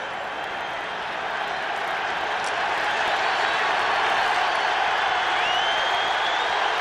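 A large, steady roar from the crowd at a 1992 NFL game between the Rams and Cowboys in a domed-style stadium with a hole in the roof, loud and continuous throughout and swelling slightly in the second half.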